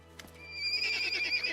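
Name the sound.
ponies neighing and snorting in video game Pathfinder: Kingmaker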